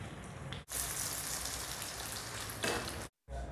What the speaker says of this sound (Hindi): माशाल्लाह हमारा ऑयल गर्म हो गया, तो आपने 1/1 ऑयल में डाल के इसको फ्राई करना है